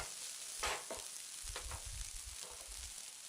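Egg mixture being stirred in a hot pan for Telugu kodigudla ukkuru, a soft steady sizzle with a few scraping strokes of the spoon, close by and fairly quiet.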